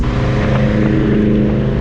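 A 2017 Subaru STI boxer engine breathing through a Nameless Performance catback exhaust with muffler deletes gives a steady, loud, deep rumble that holds constant, close by and alone.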